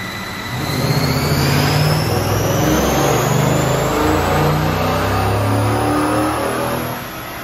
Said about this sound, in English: Sounds like we hit the rev limiter pretty early.